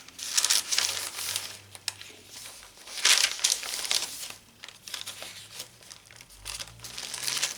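A brown paper lunch bag is crinkled and crumpled by hand in several rustling bursts with pauses between them, close and fairly quiet, with no talking.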